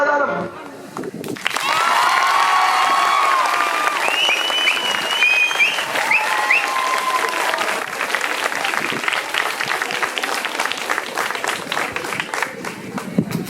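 After a quiet start, an audience at an engineering college event bursts into loud, sustained clapping mixed with cheers, whistles and scattered shouting voices.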